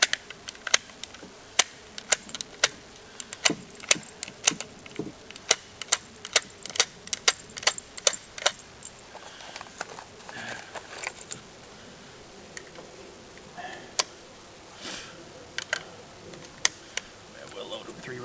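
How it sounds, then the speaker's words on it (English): Rifle rounds being pressed into a magazine, green-tip ammunition included, during target practice in the woods: a run of sharp metallic clicks in quick bursts, then sparser clicks later, close and fairly quiet with no talk. "We'll load them 3 rounds at a time because that's the groups I'm going to be doing anyway"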